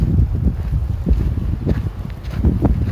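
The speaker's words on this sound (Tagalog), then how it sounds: "Lakas ng hangin" Strong wind roars and buffets the microphone during a snowstorm, a loud, close, low rumble that gusts throughout with no talking.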